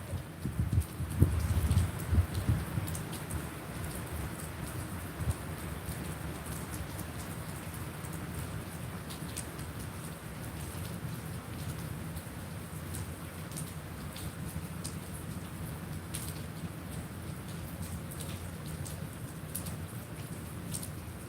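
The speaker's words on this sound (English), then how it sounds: "a lot of the water and where the rain's coming from is off the roof, the metal roof, and it's all like dripping" Rain drips and patters off a metal roof outdoors on a windy day, a continuous soft spattering with scattered sharper drops, fairly faint and steady throughout.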